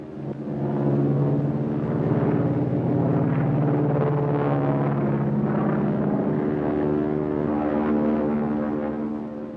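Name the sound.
propeller airplane engine in flight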